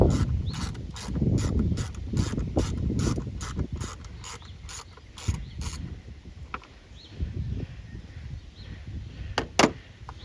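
A socket wrench ratchets in quick, evenly spaced clicks while throttle body cables are unhooked on a Ford Duratec engine, a close, steady run of clicks that stops, leaving scattered metallic clinks and taps.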